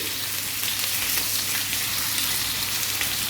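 Steady crackling sizzle of chicken frying in a pan, a continuous hiss with fine pops, no voices.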